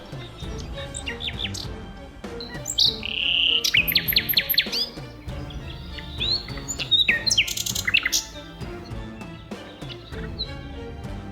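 A nightingale sings alone in rich, varied phrases of whistles, trills and rapid chirps, bright and close, with a faint background hum.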